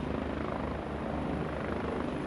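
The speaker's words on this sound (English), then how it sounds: "helicopters waving off. And wow, flying extremely low." Military helicopters flying extremely low over troops in the video game Squad, a loud, steady rotor roar with continuous thumping blades filling the whole moment, no voices.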